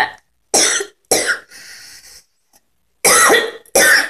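A woman coughing hard in several separate loud bursts, with a couple of short pauses between fits and a quieter rasping stretch in the middle, close to the listener.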